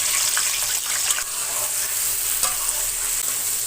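Boiled pointed gourd with whole cumin seeds frying in hot oil in a wok, giving a steady close sizzle with a few stirring scrapes and no voices.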